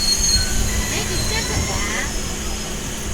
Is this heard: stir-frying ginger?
no